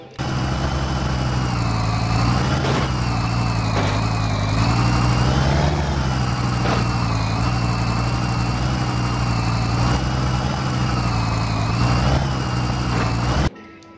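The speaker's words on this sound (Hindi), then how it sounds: "वाओ, ट्रैक्टर, ग्रीन कलर का" A green toy cartoon tractor engine runs with a continuous droning idle, its pitch wavering slightly as it rumbles steadily for over ten seconds before cutting off abruptly.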